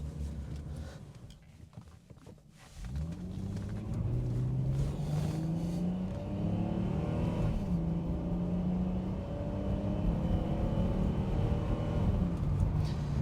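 A Jaguar XJS engine pulls up from a low idle into a rising, steady rev with rumbling drone, close and fairly loud, sustained under cabin noise without talk.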